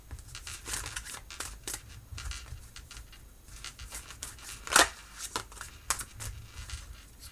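Tarot cards being shuffled and drawn during a Capricorn love horoscope reading: a steady run of soft papery riffles and flicks, with one sharper snap near the middle, close and fairly quiet.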